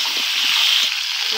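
Okra hitting hot oil in a pan after onions were fried, giving a loud, steady hissing sizzle that stays even throughout.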